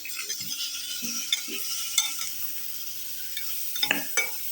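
Snake gourd and brinjal pieces are stirred and sautéed in a pan, giving a steady soft sizzle broken by several scraping stirs and a few light clinks of a utensil against the pan.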